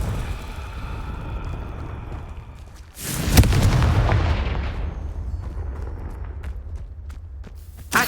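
The Confringo blasting spell in Hogwarts Legacy goes off as one sharp, loud burst that trails into a long roaring, fading rumble, with no talk.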